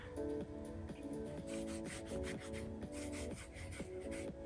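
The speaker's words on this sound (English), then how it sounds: "I'm not pressing real hard, but I'm just smoothing to make sure that all of the canvas touches the paint" Steady soft rubbing of a hand smoothing a canvas pressed onto wet leftover acrylic paint during a fluid art dip, a continuous close scuffing texture with faint rhythmic strokes throughout.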